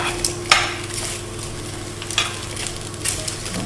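Roasted beetroot with added apples sizzling in a hot pan, stirred with a few light scrapes and clinks of the utensil over a steady fry, close, with no talking.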